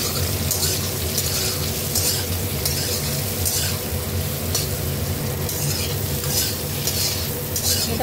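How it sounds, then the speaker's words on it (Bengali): Pointed gourd pieces frying in a pan with salt and turmeric, giving a continuous sizzle with stirring scrapes, steady and close throughout, with a low background hum. "এটা ভালো করে ভেজে নিয়ে"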